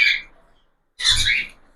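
A cockatiel giving two loud, harsh squawks close by, one short cry at the start and a longer, fuller one after a brief silence.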